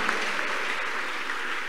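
A church congregation claps hands, a dense continuous wash of applause from many people that holds steady and loud throughout.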